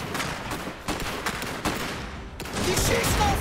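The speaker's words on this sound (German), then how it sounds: "Die schießen auf uns!" Enemy gunfire in the real-time strategy game Iron Harvest, a rapid burst of sharp, loud shots cracking at irregular intervals amid a dense battle din, with a brief voice heard underneath.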